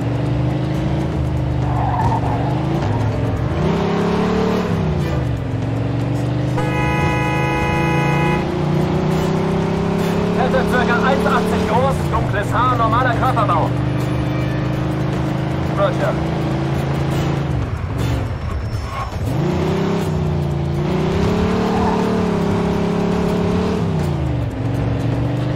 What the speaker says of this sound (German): Na, endlich mal eine Karre, die Gas geben kann hier!